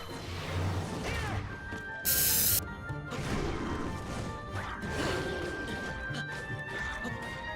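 Link's one-handed flail attack in Age of Calamity, a run of heavy metallic smashing impacts with clanking chain mechanics and whooshes, one bright burst near the start and repeated crashes continuing close and loud throughout.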